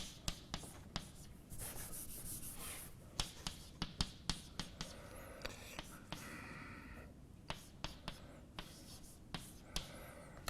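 Chalk or marker scratching across a board during a university continuum mechanics lecture, a string of short quick strokes and taps with pauses between them, heard close and quiet over a faint room hiss.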